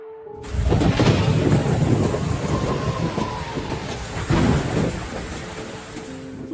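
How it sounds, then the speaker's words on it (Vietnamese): Heavy rain pours in a thunderstorm, with rolling thunder rumbling loudly throughout and a second swell of thunder partway through. "Mưa rồi, và gió dường như càng ngày càng mạnh."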